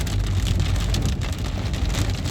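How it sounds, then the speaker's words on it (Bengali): Steady rain falls outdoors along a road, a dense continuous hiss of drops on surfaces, close and even throughout, with no voices. "আর বৃষ্টিও শুরু হয়েছে।"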